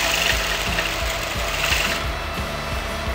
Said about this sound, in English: So I'm going to sew exactly at this point so that it turns well while turning the fabric in.